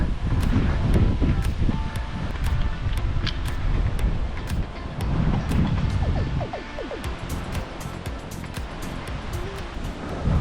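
Strong, gusty wind roars and buffets the microphone along a coastal walking trail passing a wind farm, a continuous loud rush with rustling and faint ticking, no talking.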